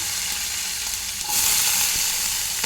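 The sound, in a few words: green chillies and onions frying in oil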